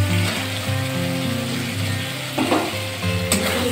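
Prawns sizzling as they go into a pan of posto (poppy seed) masala, a steady frying hiss with faint clinking and scraping, no voices.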